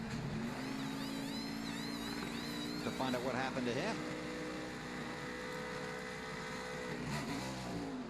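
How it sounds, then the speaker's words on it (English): NASCAR stock cars rev and accelerate at the Sonoma road course, 2009 Toyota/Save Mart 350. Engines drone and rise in pitch, with a few sharp upshifting sweeps, heard beneath steady commentary. "you hear these cars leave. You heard the RPM."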